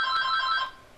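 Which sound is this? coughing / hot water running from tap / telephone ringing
telephone ringing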